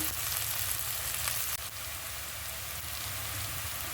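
Curry leaves and coriander sizzle steadily in hot oil for a brinjal masala curry, a dense, even crackle that continues alone without pause.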